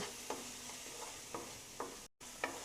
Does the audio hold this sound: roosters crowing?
no